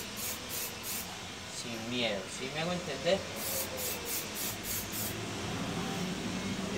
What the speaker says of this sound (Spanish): poder pasar nuestro aerosol